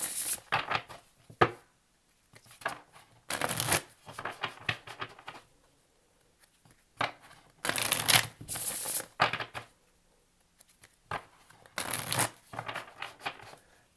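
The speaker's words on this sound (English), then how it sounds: "Last shuffle for Taurus." Tarot cards being riffled and shuffled in repeated bursts, each a few seconds long, loud and close, separated by quiet pauses with faint background.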